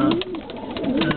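Pigeons coo in a soft, throaty pair of rising-and-falling calls, heard close against a quiet background.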